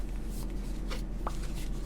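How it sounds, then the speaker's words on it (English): A deck of tarot cards shuffled by hand close up, a soft steady papery riffle and slide over faint background hiss, with a brief tap near the end and no talking. "I'm gonna shuffle the cards and you think of your question"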